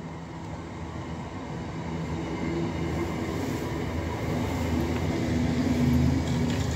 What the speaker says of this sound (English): T20 arriving from Cumbernauld, and it's going to Dalmuir via Hamilton